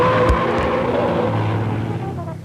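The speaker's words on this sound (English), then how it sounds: "To the tune of screaming tires, the field tackles the bends with impunity." Racing cars, including Jaguars and a Morris Minor, corner hard at a Longford circuit revival meeting, tires screaming through the bends over a loud, continuous engine roar from the passing field.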